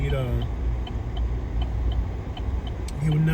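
A car pulls over on a rural road near Homer, Georgia, heard from inside as a steady engine hum with a regular ticking like a turn signal while someone talks over it.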